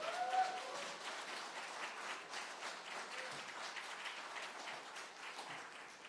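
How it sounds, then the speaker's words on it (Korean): A church congregation applauds at a Thanksgiving Sunday service, a soft, distant wash of steady clapping that carries on evenly with no break. "우리 다시 한번 박수로 하나님께 영광 또 감사의 박수 올려드립니다"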